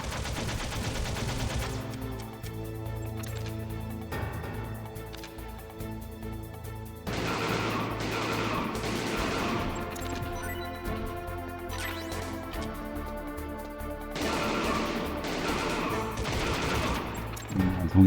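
Gunfire in Metal Gear Solid comes in repeated bursts of rapid shots over a game soundtrack, loud and close, with brief quieter gaps between volleys.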